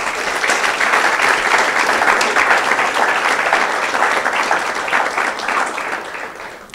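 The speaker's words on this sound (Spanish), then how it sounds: "Dele un aplauso fuerte al Señor." A church congregation applauds during a sermon, a sustained, lively burst of many hands clapping that gradually fades toward the end.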